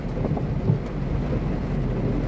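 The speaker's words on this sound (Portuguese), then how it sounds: "Aumentou a chuva." Heavy rain pours down in a steady, dense roar with a deep low rumble underneath, continuous and close throughout, with no voices.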